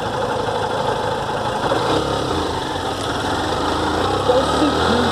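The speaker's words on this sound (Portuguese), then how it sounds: "Vou testar a moto aqui" A motorcycle engine runs steadily, a close, continuous buzzing drone that holds even throughout with only small fluctuations.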